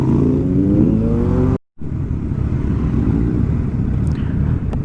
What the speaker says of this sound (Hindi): और ये सुपर बाइक की आवाज़, in line 4, in line 3, that's Triumph in line 3